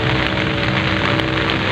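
Heavy rain pours steadily onto surfaces as a dense, loud, unbroken hiss, with no voices over it.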